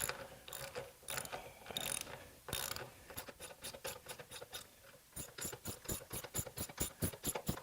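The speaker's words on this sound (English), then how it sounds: "So the thread is now cutting its way into the wood." Coach screw driven into wood with a ratchet for a workbench vice, a run of close, sharp pawl clicks in uneven bursts that settle into a fast regular ticking rhythm.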